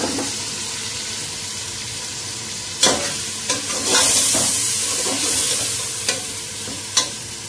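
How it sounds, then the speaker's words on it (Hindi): Masala with tomato frying in a pan while being stirred: a steady sizzle broken by several sharp spoon knocks and scrapes, with a brief louder hiss midway, close up and without talk. "मसाला अच्छी तरह मैं फ्राई करूंगी और फिर इसमें अरबियां शामिल करूंगी।"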